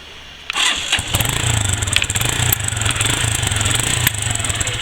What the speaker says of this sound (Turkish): Şöyle bir çalıştıralım motoru.